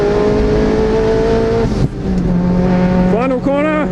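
A race car engine held at full throttle on the final corner, roaring loud and close with a steady high pitch, a brief dip, then a rapid rising climb through gears while a voice talks over it.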